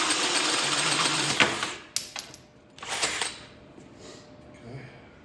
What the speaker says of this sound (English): I've taken my cutoff wheel, marked where I want my flat spots for my butterflies to sit.